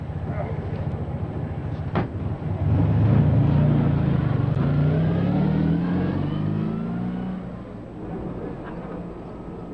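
A car driving along, its engine rising to a steady, loud rumble with shifting pitch as it accelerates, then easing off, with faint background noise and no clear talking.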